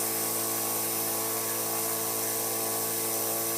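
A homemade Joseph Newman motor with a magnet rotor spins up quickly and runs steadily, giving a constant mid-level whirring hum with stable tones and no gaps. No voices are heard.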